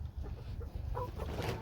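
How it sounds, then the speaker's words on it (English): Chickens on a small homestead cluck softly nearby in short, irregular bursts over a quiet low background hum. "We love chickens."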